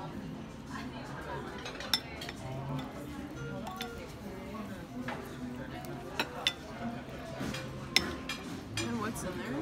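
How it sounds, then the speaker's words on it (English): Food is stirred in a dish at a restaurant meal, with steady scraping and light clinks of utensils against the bowl, a few sharper taps, under ongoing conversation. "Now we just have to mix it."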